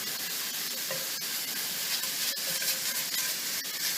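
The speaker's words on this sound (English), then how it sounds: "Yeah, it's all kind of sizzling in here." Ground beef browning in a hot pan, giving a steady, dense sizzling hiss with faint stirring scrapes, close and continuous with no voices.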